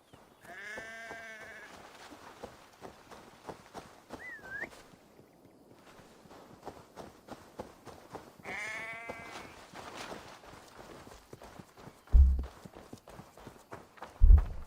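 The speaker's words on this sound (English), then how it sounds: "The sheep follows my whistle." Sheep bleating in Assassin's Creed Valhalla, two wavering bleats a few seconds apart alongside a short whistle, with soft crunching footsteps throughout and a couple of heavier thumps near the end.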